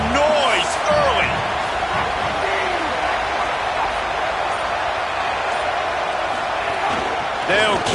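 A stadium crowd in the College Football 27 video game, Northern Illinois at Iowa, roars as a steady loud wash of noise throughout, with a commentator's voice talking over it.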